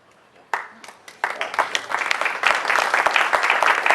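An audience at a talk in a bar in León breaks into applause, starting with a few scattered single claps that quickly build into dense, loud, sustained clapping.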